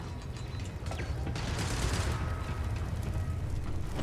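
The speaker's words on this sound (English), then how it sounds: "I think this turret targeted one of those little worms and shot a gas tank." In the video game Starfield, a turret fires and hits a gas tank, heard as a dense, loud burst of gunfire and mechanical rattling that swells into a sustained roar through the middle and end.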